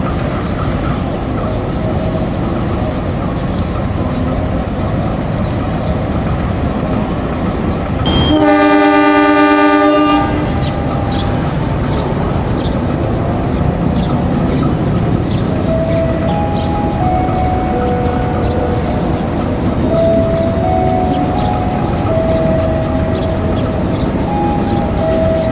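The Malabar passenger train passes through a station in West Java with a long, loud rumble of wheels on rails throughout, interrupted by a strong two-second horn blast early on.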